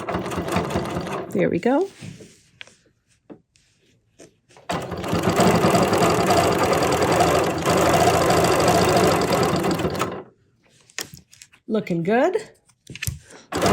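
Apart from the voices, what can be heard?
sewing machine stitching quilt string blocks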